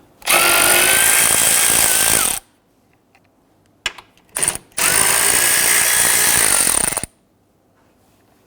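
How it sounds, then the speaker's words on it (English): A power tool loosens the two 10mm bolts on the coolant reservoir of a Dodge Charger, giving two long, loud, steady whirring bursts a few seconds each, close up, with a brief spurt between them and no talking. "On our coolant reservoir right here, there are two 10mm bolts."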